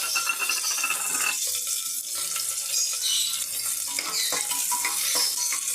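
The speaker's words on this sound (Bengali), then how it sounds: "তেলটা আমার গরম হয়ে গিয়েছে, আমি লঙ্কা পেঁয়াজটা লাল করে নেব" Chilli and onion frying in hot mustard oil in a pressure cooker, a loud continuous sizzle and crackle with stirring clatter throughout and no talking.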